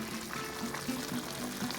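Water and pasta tipped into a simmering pot on the stove, a steady soft pouring wash with faint bubbling, close and fairly quiet, no talking.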